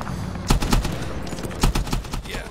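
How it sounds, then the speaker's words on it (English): An M60 machine gun in the Medal of Honor video game fires in several sharp, loud bursts of rapid shots, separated by brief pauses and set against a low rumbling background. "So M60, you shoot man with M60, M60 man die."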